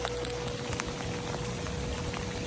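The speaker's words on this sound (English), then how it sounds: "it's actually raining right now" Rain falls steadily and close by as a dense, even patter with scattered drop hits, continuous throughout and with no voices.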